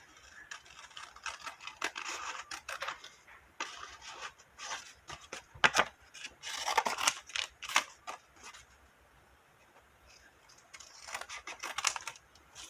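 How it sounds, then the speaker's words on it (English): Scissors snip off excess card stock for index card art, close and fairly quiet, with irregular bursts of cutting and rustling handling separated by pauses. "I'll cut off the excess, whatever needs to hang off the side."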